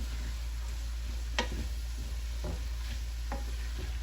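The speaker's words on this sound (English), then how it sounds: "And now my spring onion will go in last because it's pretty soft." A shrimp and vegetable stir fry with spring onion sizzles softly in one pot under a steady low hum, with a few sharp utensil clicks scattered throughout.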